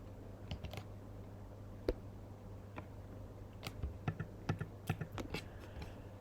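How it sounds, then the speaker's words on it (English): Keys on a computer keyboard are tapped in quiet, uneven clusters, with sparse presses early and a quicker run of close, faint clicks near the end, over a low steady hum. "We then type in the company's income"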